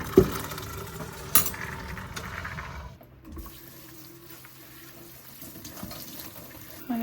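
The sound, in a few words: rinsing soaked navy beans with tap water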